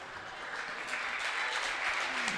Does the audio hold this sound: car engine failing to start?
no